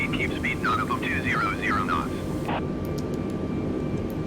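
A steady, loud aircraft engine drone runs throughout as a plane slows for a night landing. Speech-like tones can be heard over the engine in the first half.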